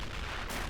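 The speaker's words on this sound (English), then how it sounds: "Lots of explosions and stuff like that." Artillery shells exploding on a Stalingrad factory battlefield in a war video game, a dense burst of booming blasts with a sharp crack partway through, loud and continuous without any talk.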